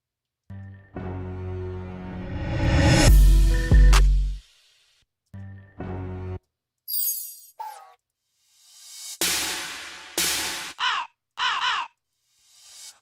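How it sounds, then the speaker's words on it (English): Crow caw sample from a beat pack, played back as several loud, harsh caws in separate bursts, some long and drawn out, others short and clipped, with a glassy shatter-like hit among them and silent gaps between. "thought that crow was pretty dope"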